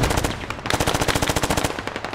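Sustained machine gun fire in the Squad military shooter, a long, close, rapid burst of evenly spaced shots after a brief lead-in.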